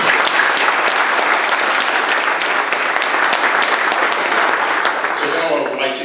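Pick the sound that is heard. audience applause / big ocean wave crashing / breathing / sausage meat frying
audience applause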